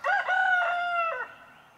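A rooster crows once nearby, a loud, clear, drawn-out cock-a-doodle-doo that fades off at the end.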